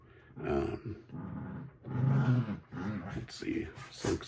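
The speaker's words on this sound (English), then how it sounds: "Have to excuse my dogs, they're playing under me, under the table here." Dogs play under a table, growling and grumbling in low bursts close by while someone talks over them.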